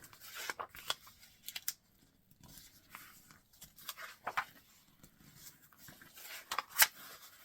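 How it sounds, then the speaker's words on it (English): Paper book pages being accordion folded two at a time, stacked one on top of the other, giving soft crisp creases and rustles in scattered bursts with a few sharper snaps, quiet and close with no talking. "I'm going to accordion fold them at the same time."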